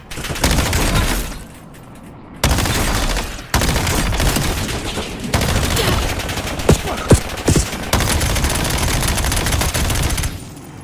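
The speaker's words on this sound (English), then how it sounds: "Incoming fire." Gunfire in a shooter video game, with dense sustained automatic bursts and fusillades, a short drop-off, then renewed heavy firing with a few sharp single shots standing out, loud and close.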